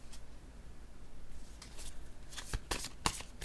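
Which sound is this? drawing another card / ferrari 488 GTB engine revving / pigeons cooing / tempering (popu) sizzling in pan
drawing another card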